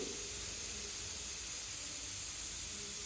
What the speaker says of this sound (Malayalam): ഞാനിതാ കുക്കർ അടച്ച് വെച്ച് കൊടുത്തിട്ടുണ്ട് ഹൈ ഫ്ലെയിമിലിട്ടിട്ടാണ്ടോ ഒരൊറ്റ വിസിൽ മതി